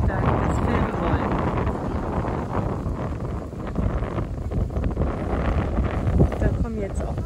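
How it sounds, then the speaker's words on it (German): Strong wind buffets the microphone at sunset on the waterfront in Trogir, Croatia, a steady loud roaring rush throughout with faint background activity. "Da kommen jetzt auch Wolken, das heißt, es ist Wind, ganz viel Wind."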